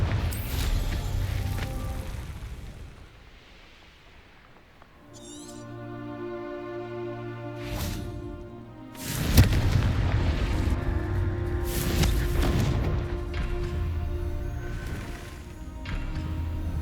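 Confringo fire-spell blasts in Hogwarts Legacy: several sharp, loud booming bursts with crackling debris and a bright ringing tone between them, one heavy explosion near the middle followed by more bursts.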